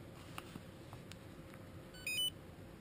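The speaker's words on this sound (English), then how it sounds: "Beeps at you." A Garmin Virb Elite action camera gives a short electronic beep as it powers on and starts recording indoors. The clear, high tone comes once near the end over a faint room hiss.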